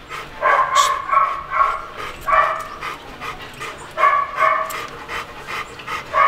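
A Rottweiler at a kennel pants heavily and rhythmically up close, with short bursts of breathing in quick succession and occasional yelps mixed in.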